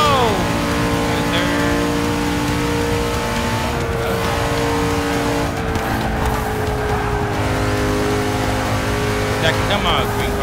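Race cars in the video game Forza 6 scream past with rising and falling engine whines and overlapping revs, loud and continuous, while a person talks excitedly over the action.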